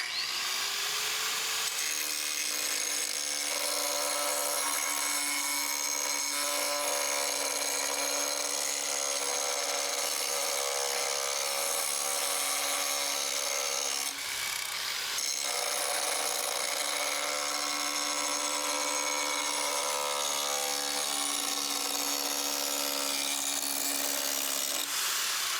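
A lawn mower blade is ground to a new edge in a makeshift plastic clamp, producing a steady, loud abrasive whine with sustained harmonic tones that runs continuously and briefly dips midway before resuming.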